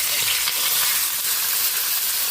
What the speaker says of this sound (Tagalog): Piprito na po tayo ng ating isdang hiwas.